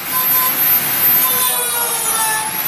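A Dremel rotary tool cutting a deep groove while carving wood gives a continuous high whine with rough grinding texture, steady and close throughout.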